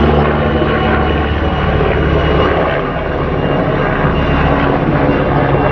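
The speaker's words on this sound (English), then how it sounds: "That's the helicopters." A steady, loud engine drone with deep low rumble, continuous throughout, from helicopters running near a farm in Gran Canaria.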